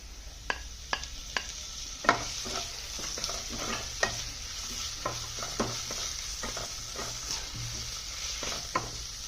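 Chopped tomato stirred into a pan of frying mushroom masala, a soft steady sizzle broken by repeated sharp scrapes and clicks of a spoon against the pan, moderately close, with no talking.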